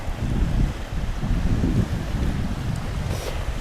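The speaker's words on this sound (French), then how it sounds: "il y a tellement de vent que même le drone, on peut pas le sortir" Strong wind buffets the microphone in a continuous low roar, with gusts rising and falling and no voices.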